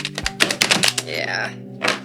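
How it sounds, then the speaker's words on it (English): A deck of playing cards being overhand shuffled by hand, a quick run of soft riffling taps and thuds across about two seconds, close and fairly loud. "I'm going to do some overhand shuffling."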